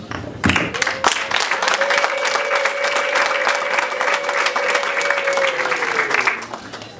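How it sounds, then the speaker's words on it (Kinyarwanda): A wedding audience claps loudly and continuously while a long, high, sustained ululation rises above the applause and holds for several seconds before both fade. "ndabashimiye impundu nyinshi n'amashyi"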